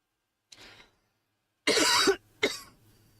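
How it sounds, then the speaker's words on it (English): A person coughs three times, close and loud, a short faint cough followed after a pause by two harsher bursts. "Sorry, I had a cough."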